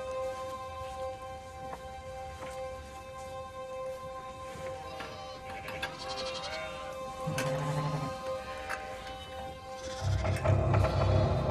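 Lambs and ewes bleating on a farm at feeding time in the Carpathians, several overlapping bleats rising near the end over a steady background hum.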